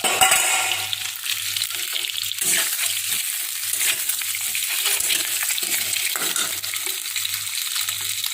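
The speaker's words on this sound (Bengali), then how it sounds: "ডিমটা আমার ভাজা হয়ে গেছে, এখন ডিমটাকে উঠিয়ে নিচ্ছি" An egg fries in a pan, a steady broadband sizzle with crackling that holds at a fairly loud level and is heard alone, with no talking.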